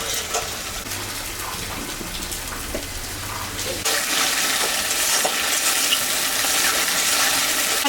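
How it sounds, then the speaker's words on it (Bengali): Water is poured into a cooking pot of food seasoned with salt and turmeric. A quieter frying crackle gives way partway through to a louder, steady rushing splash that continues to the end. "আমি সামান্য একটু জল দিলাম।"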